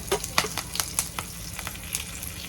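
Mustard seeds, cumin and curry leaves fry in hot oil, giving a steady close sizzle with scattered sharp pops and crackles and no voices.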